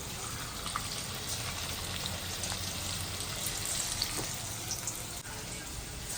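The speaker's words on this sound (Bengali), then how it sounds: "তা চিকেনগুলোকে ফটাফট ফ্রাই করে নিই" Chicken pieces frying in a pan, a dense continuous hiss of hot oil that holds at an even level throughout, close up with no other sounds.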